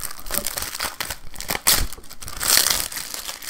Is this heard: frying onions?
no